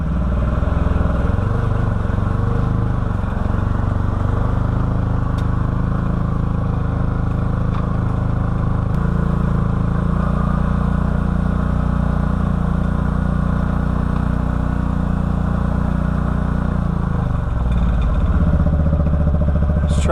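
The engine of an older 2013 Can-Am Maverick side-by-side runs loud and close for a long stretch, with its clutch struggling in high gear. The drone shifts in tone about halfway through.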